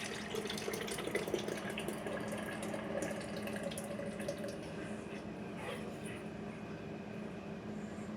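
About a liter of fermented hot sauce liquid is poured into a container, making a continuous splashing, gurgling stream at close range that runs steadily throughout.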